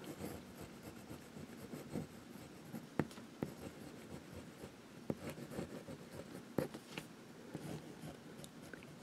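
A fountain pen scratches and glides across paper in soft, continuous strokes with small ticks and taps, quiet and close, no voices.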